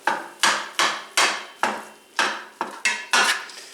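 A flat spatula knocks rapidly against a pan, breaking up ground beef and pork for a tourtière meat pie, making about nine sharp, evenly spaced scraping clacks that ring close and clear, with no talking.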